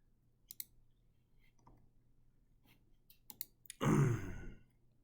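Computer mouse clicks, a few faint, sparse taps spread out in a quiet room, followed by a brief louder rustle or breath near the end.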